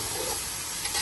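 Finely chopped tomatoes frying with onions in a pan, a steady close hiss and sizzle throughout with no talk.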